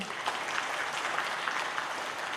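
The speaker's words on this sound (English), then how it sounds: "Please, another big round of applause for them." Steady, moderately distant applause from an audience at an academic literary panel, a dense even patter of clapping with no voices on top.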